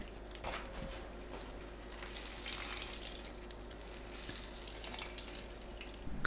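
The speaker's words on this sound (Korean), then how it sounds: "절인 오이는 물 짭니다." Salted cucumbers squeezed by hand, water trickling and splashing faintly into a bowl in a few soft bursts, close and quiet.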